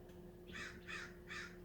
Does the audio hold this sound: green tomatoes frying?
no